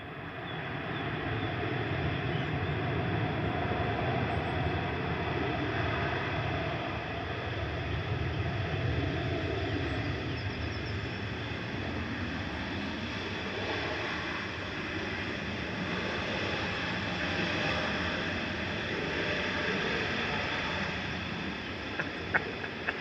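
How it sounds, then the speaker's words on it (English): A Qatar Airways Boeing 787-9 landing at Manchester Airport with reverse thrust: a steady, heavy broadband roar that holds for more than twenty seconds without a break and with no talking. "A7BHN there, coming from Doha, just drying the runway a little bit with its reverse thrust"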